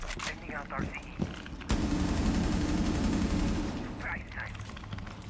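Sustained burst of gunfire from a Rainbow Six Siege match, a dense loud rattle lasting a few seconds, with brief shots and a player's voice before and after.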